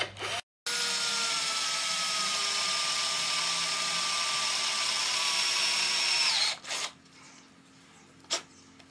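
An old cordless drill runs for about six seconds in a sustained, fairly loud whine at steady pitch, then stops; a brief pause near the start and a couple of faint knocks follow.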